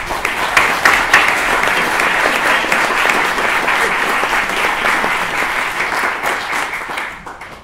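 An audience bursts into loud, sustained applause welcoming a speaker, a dense clapping wash that holds for several seconds before tapering off.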